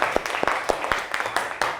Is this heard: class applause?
yes